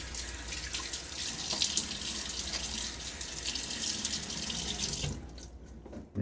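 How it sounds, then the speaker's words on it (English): Water runs steadily from a bathroom tap while a face is wetted before a safety-razor shave. The close, continuous rush fades out near the end. "Get my face wet."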